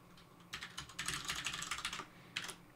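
Keys tapped on a computer keyboard while entering two passwords for a game login, a steady burst of clicks with a short pause, then a brief final flurry, close and moderately quiet.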